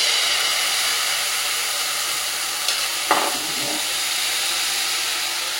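Egg potato paratha fries in a pan with a constant loud sizzling hiss, broken by a brief scrape or clatter near the middle; close and steady throughout.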